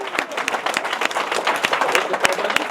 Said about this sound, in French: Je voudrais encore un tonnerre d'applaudissements pour Frédéric Baldan.